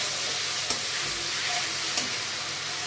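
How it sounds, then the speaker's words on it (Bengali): Half-fried onion with garlic paste is stirred in a pan, producing a steady sizzle with faint spatula scrapes at intervals, close and continuous. "এই পেঁয়াজটা হাফ ভাজা হওয়ার পরে রসুন পেস্ট দিয়ে ভালো করে আমি নাড়াচাড়া করে নিচ্ছি।"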